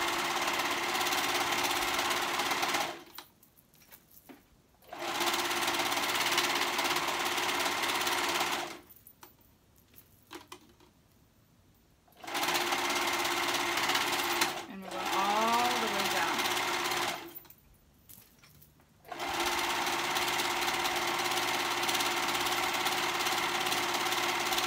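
Sewing machine stitching along the seams of a hoodie, running in several loud sustained bursts separated by short pauses.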